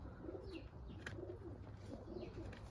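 Polish Danzig highflyer pigeons cooing nearby, soft repeated low coos in a steady rhythm over a faint background, with no talk.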